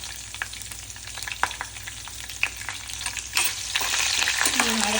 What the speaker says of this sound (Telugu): పచ్చిమిర్చి వేస్తున్నాను ఇందాక ఎండుమిర్చి మర్చిపోయాను ఎండుమిర్చి చెప్పిన రెండు నాలుగు ఎండుమిర్చి వేసుకుంటాను నేను